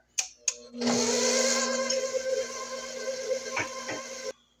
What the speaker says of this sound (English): And first gear, we're gonna mix for about a minute